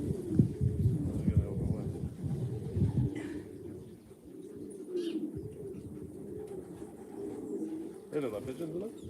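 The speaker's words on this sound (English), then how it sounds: "They look like pigeons, don't they?" Pigeons coo in soft, repeated rolling calls at a family pigeon loft, heard near and steady throughout, with some talking and low rumbling mixed in underneath.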